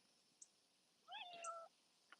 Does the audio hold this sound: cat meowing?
yes